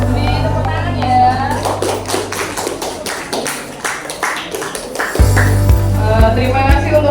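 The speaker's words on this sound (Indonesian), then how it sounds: "Beri tepuk tangan ya." Classroom applause follows a group presentation, with children clapping in a lively, uneven patter for several seconds. Kids' voices chatter underneath, and a low steady hum enters near the end.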